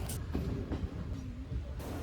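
A train rumbles steadily along mountain tracks between Kollam and Sengottai, a dense low roar with faint rhythmic clacks and occasional hissing bursts.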